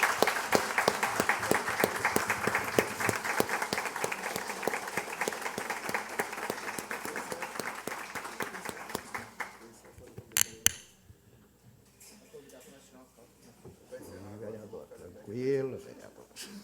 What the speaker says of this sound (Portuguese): recebam aplauso deste Poder Legislativo